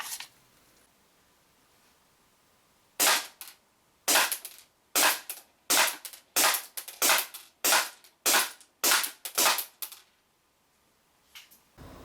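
An Armorer Works Deadpool 1911 gas airsoft pistol fires about a dozen sharp, loud cracks in a quick, slightly uneven series, with a few isolated pops before and after and near silence between.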